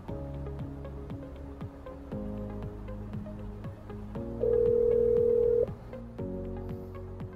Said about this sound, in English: Calling Brandon.